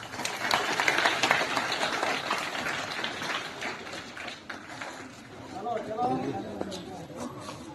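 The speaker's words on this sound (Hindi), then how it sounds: "जोरदार तालियां।" School students at an Independence Day assembly break into loud, dense clapping that slowly thins out, with children's chatter and shouting rising underneath toward the end.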